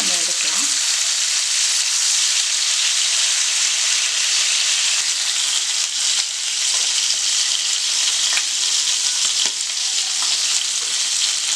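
Quail pieces fry and roast in oil in a kadai, giving a loud, continuous bright sizzle with occasional stirring scrapes and pops throughout.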